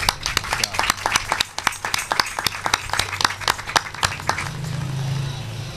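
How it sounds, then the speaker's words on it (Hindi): A church congregation claps loudly for children dressed up for the 14 August Sunday service, a dense run of sharp, fast claps that thins out after a few seconds, with some speech mixed in. "इनके लिए ज़ोरदार तालियां बजाएंगे।"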